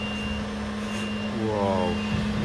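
A lorry's reversing alarm beeps steadily at close range as the truck makes a turn in a narrow street, over a low engine rumble and traffic.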